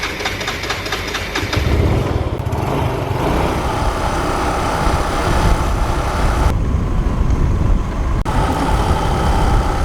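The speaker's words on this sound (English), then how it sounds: "Morgan Adele Johnston, riding a motorbike can be a little stressful" A motorbike engine drones steadily throughout, loud and close, with a rough rumbling texture and slight shifts in pitch as it rides along in Phong Nha, Vietnam.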